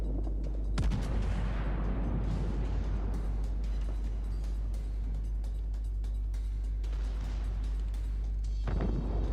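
Naval gunfire in the video game World of Warships, a dense, loud run of booming shots and rumbling explosions that carries on almost without a break for the whole stretch, with no talk over it.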